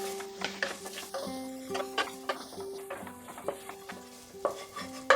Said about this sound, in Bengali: সবজিটাকে ফ্রাই করে নেব 3-4 মিনিট মিডিয়াম আঁচে